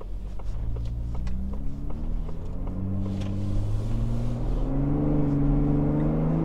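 A 2024 Ford Bronco Raptor engine rumbles and revs up in sport mode, the exhaust note rising steadily in pitch as it accelerates, loud and close.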